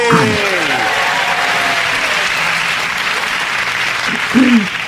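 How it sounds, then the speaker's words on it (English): Sustained applause from a comedy panel show studio audience, steady clapping throughout, with a few brief voices rising over it near the end. "that round of applause go to Russell, David and Andy"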